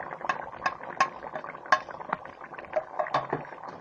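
A spoon stirring spices into aloo salan cooking in a pot, with soft scrapes and clinks against the metal over a quiet bubbling simmer, close and fairly faint.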